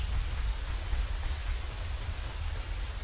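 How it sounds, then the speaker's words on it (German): Steady, dense patter of rain at Lake Hylia in The Legend of Zelda: Ocarina of Time, with a deep low rumble underneath, continuous and fairly even throughout, with no voices. "Und es regnet wie aus Vögeln."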